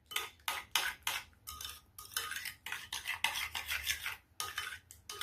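A utensil stirs a honey and sugar mixture in a bowl with quick, repeated scraping and clinking strokes, close and fairly loud, keeping a steady rhythm throughout.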